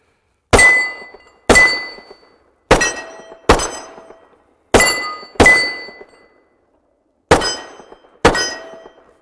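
A Kimber 1911 pistol in .45 ACP fires eight sharp, loud shots in uneven pairs and singles, each ending in a brief ringing decay, with short silent gaps between.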